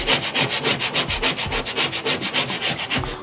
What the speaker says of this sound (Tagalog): Kailangan pa ng brush gamitin para pumuti.